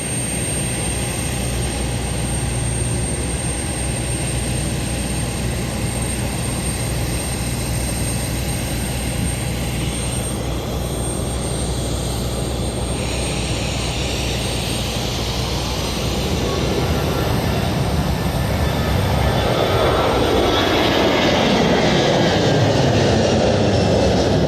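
An Airbus A320 jet rolls down the runway on its takeoff run at Madeira airport, a steady loud roar of engine noise throughout that swells and brightens toward the end as the aircraft accelerates.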